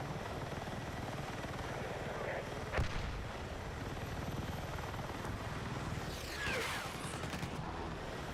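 A helicopter in a combat video game throbs steadily as a dense rotor and engine roar throughout, with sharp gunfire or artillery cracks and a whooshing pass breaking through the constant drone.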